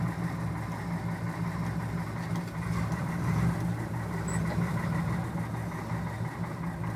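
A 1966 Chevy 292 inline engine with a four-barrel carburetor and 140,000 miles runs stone cold just after a rough start, a close, steady, low rumbling idle with a slightly uneven throb throughout.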